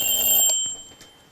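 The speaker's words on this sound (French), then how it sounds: "le premier réveil sonnait 1h30 plus tôt" An alarm clock's bright ringing tone sounds for under half a second, then cuts off, followed by a couple of faint clicks and quiet.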